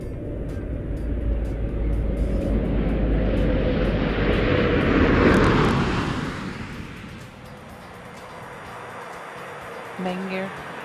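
Space Shuttle Discovery on its STS-131 landing approach, a loud broad roar of airflow and rumble that swells toward the middle and then eases away, with a brief higher tone near the end.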